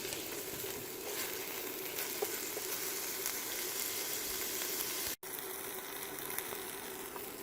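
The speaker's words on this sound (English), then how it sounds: "I'm just going to saute this onion and garlic for about 5 minutes until, and keep stirring it until the onion is translucent" Onion and garlic sauté in a pan with a steady, even sizzle, moderately close and constant, broken only by one abrupt instant of silence near the end; no one speaks.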